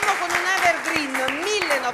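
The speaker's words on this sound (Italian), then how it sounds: "l'applauso lo facciamo noi a voi pubblico da casa." On a televised music show, a studio audience claps in a quick, fairly regular rhythm while a voice carries on loudly over the applause.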